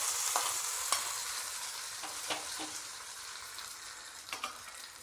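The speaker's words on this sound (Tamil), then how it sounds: "நம்ம ஆஃப் பண்ணிவிட்டு இந்த தாள் கொட்டிடலாம்." Hot tempering poured into arai keerai masiyal, an amaranth spinach curry, gives a steady soft sizzle and hiss with a few faint clicks and taps, heard alone at low volume.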